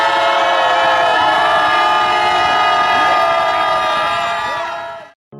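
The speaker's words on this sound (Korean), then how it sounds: "함성 시작." A crowd cheers loudly and continuously at a candlelight protest rally, with a dense roar of many voices that holds steady and then fades out at the very end.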